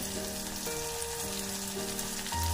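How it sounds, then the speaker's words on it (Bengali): Grated tomato and ginger fry in a pan for chickpea dal, giving a steady, close, even sizzle that runs unbroken with no voices. "টমেটো আর আদাটা একটু ভেজে নেব।"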